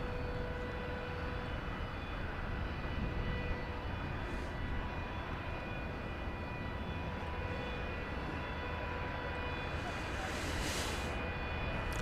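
An Airbus A300 cargo plane's engines run at the UPS regional headquarters, heard from a distance as a steady, broad roar that holds at an even level throughout, carried on a southerly wind.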